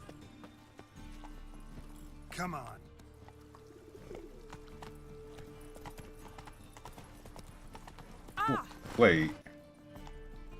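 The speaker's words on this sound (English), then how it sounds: "Hey, there's my horse." Rhythmic horse hooves in the video game The Witcher 3 clip-clop at a steady pace over quiet ambience, with birds cooing and a person speaking briefly.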